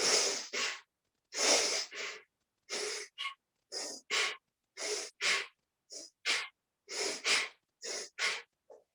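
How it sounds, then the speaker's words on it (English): Bellows breathing during a sacral chakra practice: a steady run of about fifteen vigorous, forceful breaths, sharp inhales and pushed exhales alternating in pairs, close and loud with short silent gaps between them. "we are going to inhale vigorously and then just let the exhale come out"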